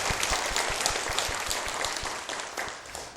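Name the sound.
congregation applause in church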